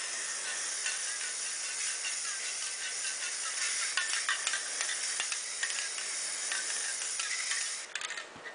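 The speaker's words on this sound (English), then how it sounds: "Simply going to lightly spray paint these gold on the bottom" A spray paint can hisses continuously as dollar store pieces are given a light coat of gold, a steady close airy spray with a brief clatter near the end.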